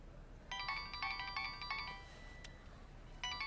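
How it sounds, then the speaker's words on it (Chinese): A phone ringtone plays a quick electronic melody in short bursts of bright tones, a pause, then a fresh burst at the end, faint against a quiet indoor room. "我接个电话。"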